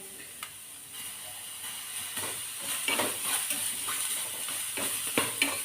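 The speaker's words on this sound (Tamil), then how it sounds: "இதெல்லாம் ஒன்றா போட்டு ஃப்ரை பண்ணிடுறேன்" Sambar onions, coconut and a single tomato frying together in sesame oil in a pan, with a steady hiss, soft sizzle and scattered stirring scrapes that build slightly toward the end.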